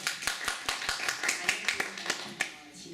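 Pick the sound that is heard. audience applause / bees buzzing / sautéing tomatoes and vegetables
audience applause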